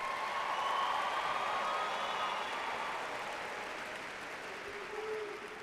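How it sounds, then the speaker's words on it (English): Applause from a high school graduation audience, a broad wash of clapping that is moderately quiet and slowly fades over several seconds, heard from a distance. "Please join me in giving these young people a round of applause"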